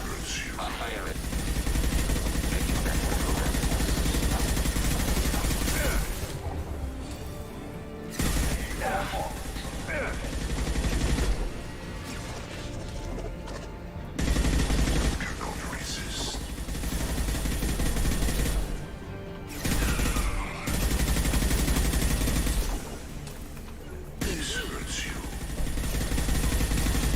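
Gunfire in Mass Effect 2 Legendary Edition comes as dense, loud bursts of shooting and mechanical clatter, broken by a few short lulls, over a constant battle din.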